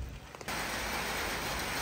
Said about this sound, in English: A little steady rain.